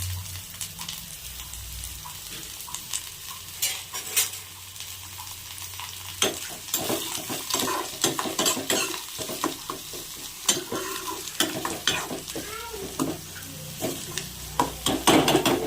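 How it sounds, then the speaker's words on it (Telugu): Bread omelette frying in a pan and being stirred, a steady close sizzle broken by scraping, clattering stirs that grow busier and louder through the second half, with no talk. "ఇప్పటివరకు ఫ్రై అవుతుంటే మనం ఇది కలుపుకుందాము."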